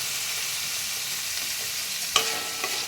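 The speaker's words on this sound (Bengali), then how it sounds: "আগে গাজরটা আর বিনসটা দিয়ে দিচ্ছি। এটা একটু ভেজে নিই" Carrots, beans and peas stir-fry in a wok for vegetarian fried rice, a steady close sizzle broken by a couple of sharp spatula scrapes near the end.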